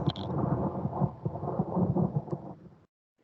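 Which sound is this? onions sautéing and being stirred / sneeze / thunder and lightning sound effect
thunder and lightning sound effect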